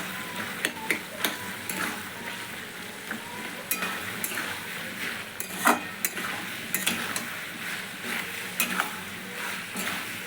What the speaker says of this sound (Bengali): ঝাল ঝাল একটু হবে, একটু খুন্তি দিয়ে কেটে দিচ্ছি।